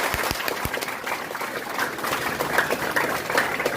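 An audience claps steadily for a first-place prize winner at a coaching-class awards event, a dense, continuous patter of hands with no talk.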